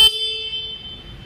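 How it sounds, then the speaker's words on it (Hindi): A Suzuki Gixxer motorcycle's single horn gives one short, loud honk whose tone rings on briefly before fading. "सुजुकी जिक्सर बाइक में सिंगल हॉर्न है, इसका हम साउंड सुनाते हैं आपको"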